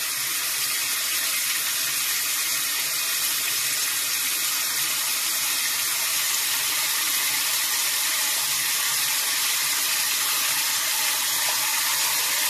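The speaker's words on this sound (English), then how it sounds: "We're going to add water to our collards until it comes up to the top of our hand." Tap water pours steadily into a pot of pressed-down collard greens, a continuous broadband rushing splash that stays close and fairly loud throughout, with no talking.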